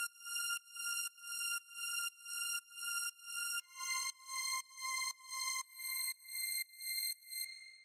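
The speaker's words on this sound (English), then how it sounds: "just a string just playing one note for a long time" A lo-fi house string drone comes through as a quiet, pulsing tone that swells and cuts off in an even rhythm about twice a second, shifting pitch a couple of times, alone without voices.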